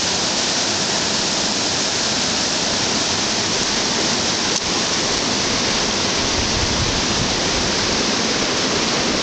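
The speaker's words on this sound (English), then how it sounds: "This is just a little bit of the rapids." River rapids near Kyburz rush past with a loud, constant roar of churning water. The sound is close and unbroken throughout, with no talking.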